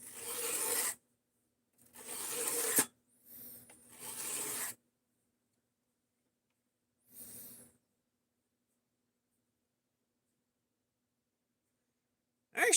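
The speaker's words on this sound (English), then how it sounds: "Actually, freehand sharpening ended up being easier than it looked for me." A knife is sharpened freehand on a whetstone block, giving several separate rasping strokes in short bursts with silent gaps between them, close and fairly quiet.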